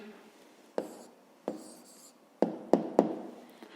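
A pen taps and scratches on paper in a book while an answer to a math exercise is written down, five short sharp strokes spaced irregularly in a quiet room.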